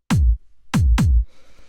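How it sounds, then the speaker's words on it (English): Three hard-hitting, punchy kick drum sample hits land alone, one then a quick pair, each a deep tight thump with a short low decay, loud and close, followed by faint hiss. "Basically, what it is it's this kick sample."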